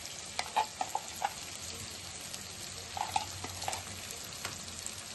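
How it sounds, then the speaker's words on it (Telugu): Masala-stuffed brinjals fry in a pan with a faint, low sizzle, broken by a few soft clatters and stirring knocks. "ఇప్పుడు మనం మసాలా పెట్టుకున్న వంకాయలు వేసుకుందాం"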